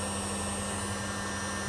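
An 1800-watt heat gun running at full power off a camper's inverter gives a steady, loud blowing whir with a constant hum, unchanging for the whole stretch.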